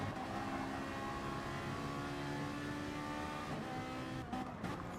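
A little Scirocco race car engine drones steadily during a slipstream battle at a circuit race, a sustained engine whine held at near-constant pitch with a slight shift near the end, moderately distant.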